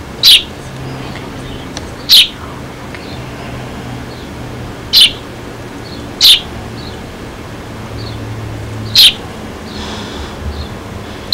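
A bird gives short, sharp, high chirps about six times at irregular intervals of roughly two seconds, clear above a quiet outdoor background hum.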